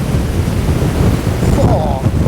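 Big storm waves crash and boom against rocks in a continuous heavy roar, with strong wind buffeting the microphone; a voice briefly murmurs near the end.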